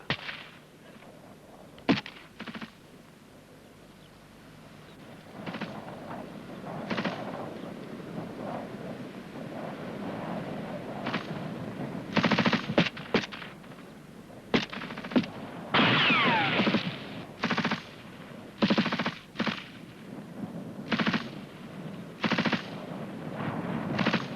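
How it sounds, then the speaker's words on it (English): A rifle group laying down covering fire in a military section fire-and-manoeuvre drill, with bursts and single gunshots cracking at irregular intervals, some close and loud, over gusty outdoor wind noise. "before they move, the rest of the rifle group are giving them covering fire"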